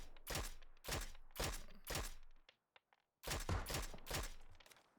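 Rapid bursts of SKS rifle fire in the battle royale game PUBG, several loud close shots in two clusters separated by a brief near-silent gap with a couple of faint thuds.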